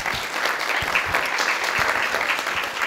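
An audience at an arthritis patients' congress claps warmly for a doctor, a dense and even wash of applause throughout, with no speech over it.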